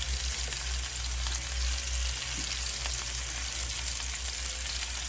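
Chicken sizzles steadily in a hot pan on the stove, a continuous close frying hiss with faint crackles and no voices, the pieces being browned briefly before going into the oven to bake.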